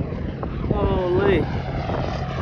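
A low-flying plane passing close overhead along a mountainous coastline, its engine drone rising and sweeping in pitch over a second or so, heard up close over steady outdoor background with a voice talking nearby.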